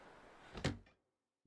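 A door opening in a video game, a single short creak-and-thud burst standing out over a low background murmur, then fading into near silence.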